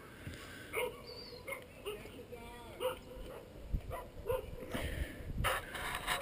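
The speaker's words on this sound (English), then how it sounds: "Screaming brats and barking dogs." Dogs bark intermittently at an island park cove near a marina on a holiday weekend, short faint yips and woofs at a distance, with voices and children in the background.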